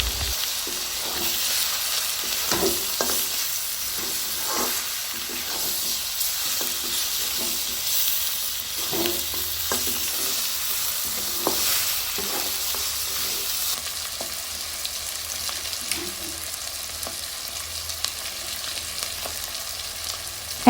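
Beef for biryani fries with packet biryani spice mix while being stirred, a steady close sizzle punctuated by repeated scraping and clanking strokes against the pot, with no voices.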